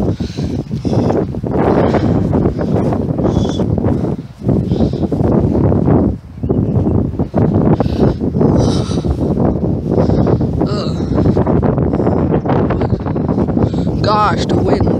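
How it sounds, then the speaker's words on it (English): Strong wind gusting hard and constantly against the microphone outdoors, a loud, dense roar with brief lulls, with voices talking over it at times. "even though it's light, the wind is still really strong"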